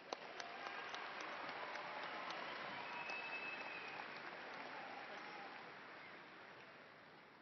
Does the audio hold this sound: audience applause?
yes